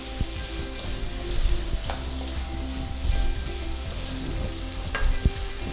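Garlic potato masala frying in a pan sizzles steadily and fairly loudly, with intermittent stirring scrapes and clinks throughout.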